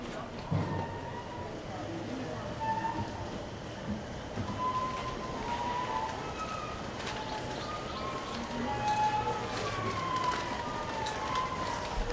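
At Railtown in Jamestown, California, a heritage train rolls by with a steady low rumble and faint squealing tones, while people chat nearby and birds call in the background.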